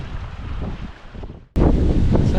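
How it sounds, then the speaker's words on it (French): Wind at sea aboard a sailboat on an Atlantic crossing from Tenerife to Martinique, a loud roaring rush buffeting the microphone that suddenly surges stronger after a brief lull. "on a du vent"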